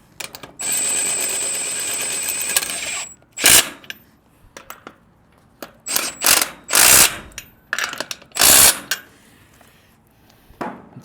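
A power tool tightens lug nuts on a trailer's tongue-mounted spare tire, one long whirring run followed by several short sharp bursts with quiet gaps between them.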